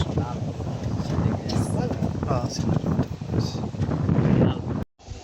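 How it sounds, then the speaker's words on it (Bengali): Strong wind blasts across the microphone outdoors as a loud, constant rumbling roar, with someone talking over it throughout. "প্রচন্ড বাতাস।"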